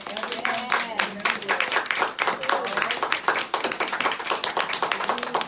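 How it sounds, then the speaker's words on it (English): Audience at an artist talk in a museum applauding the speakers, a dense, steady burst of many hands clapping nearby throughout, with a few voices mixed in. "we need to give a big round of applause for Nikki."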